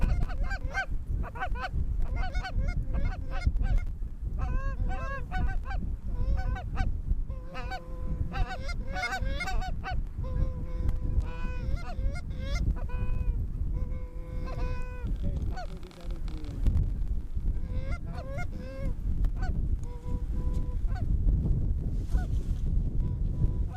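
Geese honk constantly and loudly as a flock lands during an early-season goose hunt in North Dakota, dense overlapping calls close by over a low wind rumble, with no talking.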